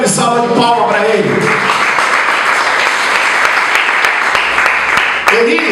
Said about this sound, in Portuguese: Dá uma grande salva de palmas para ele